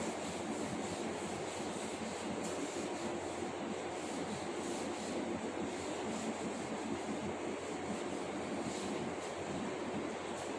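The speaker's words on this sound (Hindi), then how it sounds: "अब मैं इसको रब कर रहा हूं एक बार" An eraser rubbing out writing on paper, heard as a steady, close scratchy rubbing that continues without pause and with no talk.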